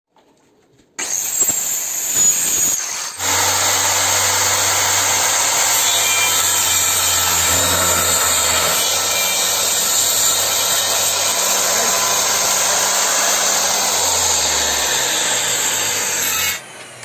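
A homemade portable wood tongue-cutting machine starts up and cuts into timber, giving a loud, continuous whining, rasping drone for about fourteen seconds before it stops abruptly.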